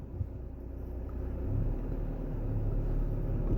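A car pulling away, a low steady engine rumble that swells gradually as it gets moving, heard from inside or close by with no talking.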